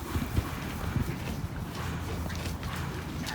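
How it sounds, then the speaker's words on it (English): Horse hooves clip-clop at a living-history ranch, a few irregular thuds close by over steady outdoor background noise. "¡Hola, caballo!"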